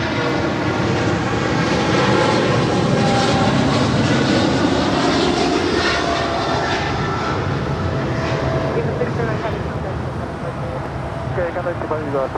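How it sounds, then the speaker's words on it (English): An EVA Air Cargo Boeing 777 freighter departs from LAX under a loud, sustained, close jet roar lasting throughout. The engine noise rises into full-power thunder, and a voice speaks faintly beneath it. "609 departing to Taipei on a 777 freighter"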